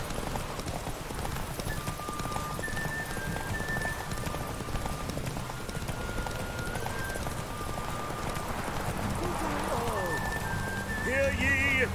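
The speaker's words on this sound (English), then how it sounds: "Run, Roach." A horse gallops in rapid rhythmic clip-clop hooves during a race in The Witcher 3, loud and steady under game music, with a brief whinny near the end.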